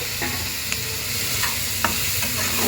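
Spices and tomatoes fry in a pan for masala Maggi, a dense steady sizzle broken by several sharp scrapes and clicks of stirring.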